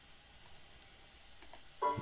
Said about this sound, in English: So I double click on the install and click install.